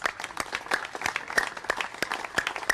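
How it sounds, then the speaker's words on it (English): A small gathering of library patrons at Adams Street claps, with separate hand claps audible and an uneven, modest burst of applause at moderate distance. "I just want to give you a hand clap"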